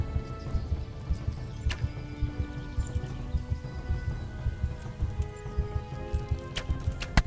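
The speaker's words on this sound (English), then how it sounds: "É cavalo." Horse galloping in the medieval role-playing video game Kingdom Come: Deliverance, rapid low hoof thuds in a continuous rhythm under a rough, rain-like wash of game noise, with a couple of brief sharp clicks.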